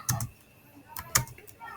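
Several quick clicks from a computer keyboard, heard in two short clusters with gaps between them, close by and fairly quiet. Someone is typing variable code in JavaScript.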